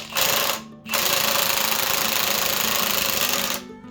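An impact wrench loosens bolts on an AMC 360 V8 engine in two close, loud bursts of rapid hammering rattle, a short one followed by a longer sustained run.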